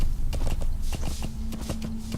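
Horse hooves clip-clop in an uneven walking rhythm during Metal Gear Solid V: The Phantom Pain gameplay, close and fairly loud, with a low steady tone and background noise beneath.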